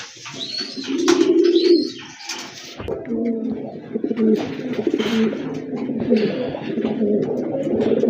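A pair of large Lahori pigeons coo nearby in repeated throaty, rolling calls, one short burst early and then a longer run of overlapping cooing, with faint background noise and no speech.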